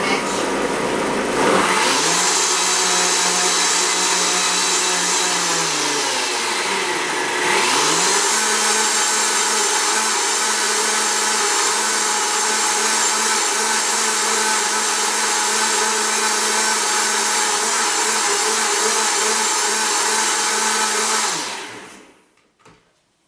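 A Blendtec blender churns gluten-free bread dough, its loud motor whirring steadily for about twenty seconds, dipping once briefly as the load shifts, then winding down and stopping.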